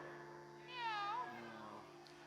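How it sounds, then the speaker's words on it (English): A black cat gives a single clear, rising-and-falling meow, close and fairly quiet over a low steady hum. "Let's hear that meow again."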